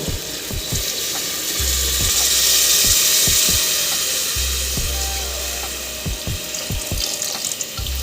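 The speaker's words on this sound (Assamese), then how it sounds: "এতিয়া হিচাপত গৰম পানী দিছোঁ হা গৰম পানী দিব" Hot water poured into a cooking pot in a home kitchen, a steady rushing stream with repeated sharp clicks and a low hum alongside, no talking.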